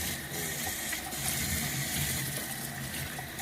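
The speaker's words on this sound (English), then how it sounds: "So I'm gonna just turn on the water and rinse it." Kitchen tap water running steadily to rinse food in a sink, a continuous close splashing gush at moderate level, with no talking.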